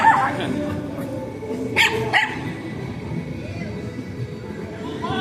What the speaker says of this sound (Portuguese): não liga pra cachorrinha, não, que ela tá te cumprimentando.